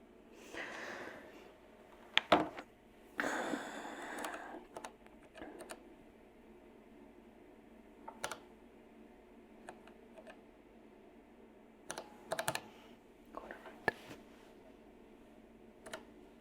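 Scattered keypresses on the MNT Pocket Reform laptop keyboard while a name is typed in, faint, close, with short bursts of clicks and long pauses, over a low fan-like hum.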